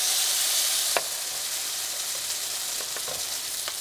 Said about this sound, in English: And we're gonna go ahead and make our little Egg Foo Young patties. And I have my pan already heated up here.